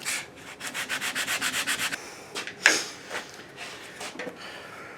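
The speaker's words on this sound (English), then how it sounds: "Can you round these corners up with the sandpaper a little?" A wooden Pinewood Derby car rubbed with sandpaper to round its corners: about a dozen quick, evenly paced scratchy strokes, then a few scattered rubs and a sharp scrape, close by.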